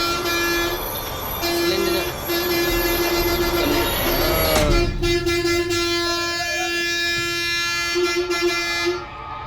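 A train passes in the video game Granny: The Afterlife, a sustained rumbling run with a steady horn-like tone that sounds repeatedly across the stretch and carries on without any talk.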